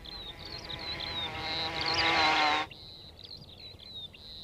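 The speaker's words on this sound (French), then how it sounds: "Les polistes sont une famille de guêpes sociales primitives." Paper wasps (Polistes) buzz close by with a steady, high insect drone that swells louder for a couple of seconds, then drops back to a thinner continuous whine.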